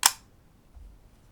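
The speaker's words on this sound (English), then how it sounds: "if I push the shutter button now," A rangefinder camera's shutter button is pressed with the shutter set to B, giving one sharp, close mechanical click at the start, then a faint low thud and quiet afterward.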